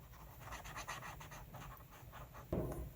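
A Copic marker scratches softly across paper while cherry blossoms are coloured, in quiet repeated short strokes close by, with a brief louder knock near the end.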